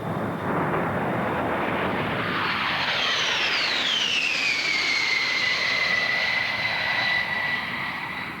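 A B-52 bomber jet makes a high-speed low pass over an airport, a loud sustained engine roar with a sweeping whine that rises and then falls as the aircraft approaches and goes by.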